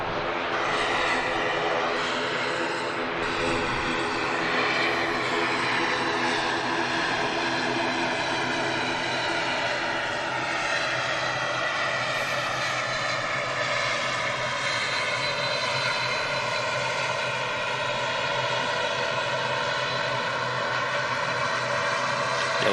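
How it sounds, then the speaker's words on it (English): Propeller aircraft engines at Manchester Airport drone loudly and continuously for over twenty seconds, the pitch slowly shifting as the plane moves, with a faint voice underneath. "Lots of props this morning."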